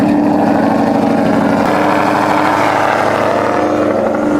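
A loud, steady Ford Mustang engine rumble with a throaty Corsa exhaust drone, close by and continuous, idling or revving slightly without pause.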